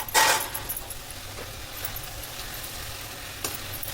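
Sauces for chowmein are mixed by hand in a bowl, a sharp clatter of a spoon or utensil at the start, then soft, steady stirring and scraping sounds nearby with occasional light knocks.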